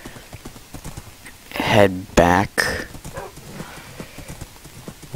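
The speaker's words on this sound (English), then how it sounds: "So now that we've got one horse," Horse hooves clip-clop in the Minecraft video game, a loud burst of clattering steps with a whinny near the middle, while a player speaks briefly over steady background game noise.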